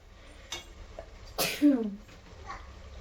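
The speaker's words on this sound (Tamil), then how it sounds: "நான் சமையல் பண்ணுறப்ப தான் தும்மல் வரணும்" A single sharp sneeze from a person cooking chicken biryani and gravy in a home kitchen, preceded by a couple of faint breathy catches and a small vocal sound, otherwise quiet.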